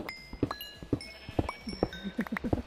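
Blocky sheep in a Minecraft-style survival game bleat a few times among quick clicking and tapping game effects, moderately loud with no talk over them.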